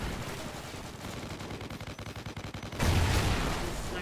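Call of Duty 4 video game gunfire: rapid bursts of automatic weapon fire crackle in a steady stream, then a louder, denser blast of shooting erupts near the end, with no voices over it.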